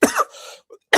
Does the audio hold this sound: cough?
yes